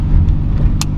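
Loud, steady low rumble of a car engine heard from inside the moving vehicle, a continuous drone with a brief faint click near the end.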